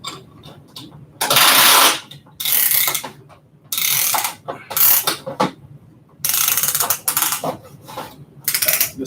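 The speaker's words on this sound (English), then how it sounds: "This ring compressor tool is kind of shitty." Piston ring compressor tool being tightened on an engine top end, with bursts of rapid ratchet clicking close up, separated by short pauses and lighter mechanical clicks.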